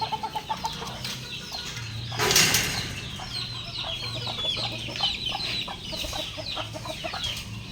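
Chicks in a cage cheep and cluck in quick, overlapping bursts close by, with a brief flurry of wing flapping partway through.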